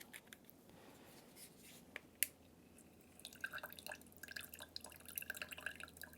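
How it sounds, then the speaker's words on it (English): Dashes of lemon juice drip into a Mississippi Punch, small soft drips and light liquid ticks, one sharper tap partway through, then a cluster of quick drips toward the end, close and faint. "And 3 dashes of lemon juice."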